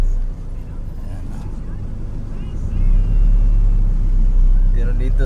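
Road traffic on the NLEX expressway at night, a deep, continuous rumble of passing vehicles that swells louder partway through, with a person talking over it.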